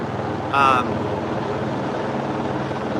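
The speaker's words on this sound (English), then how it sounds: "That helicopter hovering over my head is so annoying." Police helicopter hovering overhead during a night-time homicide suspect search, a steady low rotor drone and engine hum filling the background, with a brief louder swell early on.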